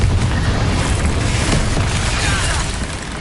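Confringo fire spell blast in Hogwarts Legacy, a loud, dense explosive roar with crackling burst layered over rumbling low end, sustained for a few seconds and fading slightly at the end.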